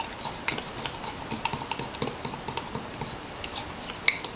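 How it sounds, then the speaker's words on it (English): Keto mug cake mix stirred in a mug, rapid light clicking taps of a spoon against the sides in a steady irregular rhythm, close and fairly quiet. "I'm going to just keep stirring."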